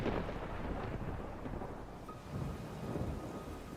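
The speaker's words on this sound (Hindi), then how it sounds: "बाहर बहुत तेज बारिश हो रही थी।" Heavy rain pours down in a thunderstorm. A dense, steady roar of rainfall runs throughout, and low rolling rumbles of thunder swell and fade beneath it. No one speaks.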